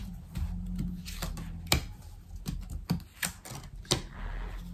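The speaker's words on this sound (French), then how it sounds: "Allez, on va prendre 6 cartes." Oracle cards being shuffled and drawn for a reading, heard as a series of crisp papery snaps and flicks in an irregular rhythm, close and fairly quiet, with no talking.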